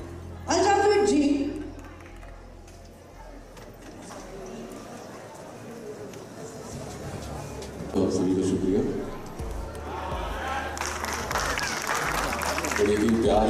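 Audience applause at a live stage event in Nagpur, with clapping swelling in bursts over background music and an amplified announcer's voice, loudest near the start and toward the end.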